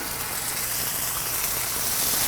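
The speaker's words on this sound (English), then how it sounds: "Ooh, that sizzle is exactly what we want to hear." Steady, close sizzling of chicken frying in hot olive oil, a dense continuous hiss with no talking.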